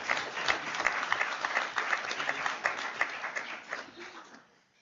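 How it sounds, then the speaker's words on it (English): An audience at a board of directors meeting claps steadily in a dense, moderately loud round of applause that fades out near the end. "Can we clap now?"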